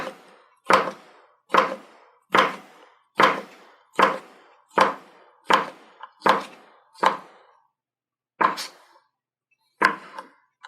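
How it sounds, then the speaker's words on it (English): A knife chops a halved cucumber on a cutting board, about a dozen sharp, close thunks in a steady rhythm, pausing briefly before the last two strikes. "And we're going to chop it up."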